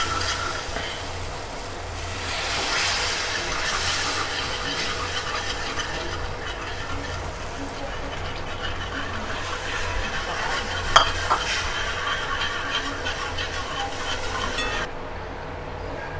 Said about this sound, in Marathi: थोडं थोडं दूध टाकत याला व्यवस्थित आपल्याला हलवत राहायचं आहे कंटिन्यू